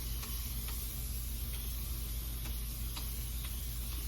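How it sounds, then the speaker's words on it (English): A handheld spray bottle mists water onto hair in short, soft bursts, repeated at uneven intervals over a steady background hiss, close and fairly quiet. "I generally just spray my hair down"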